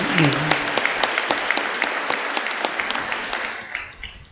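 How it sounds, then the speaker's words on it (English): Banquet audience applauding steadily in a large hall, a dense wash of clapping with sharper individual claps standing out, fading slightly near the end; a brief voice is heard at the start. "Let's give Coach Holtman a round of applause for a job well done."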